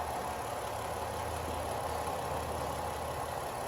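A 2012 Ford Escape's engine idles steadily after a transmission fluid refill, giving a low, even running hum with a constant drone and no talk.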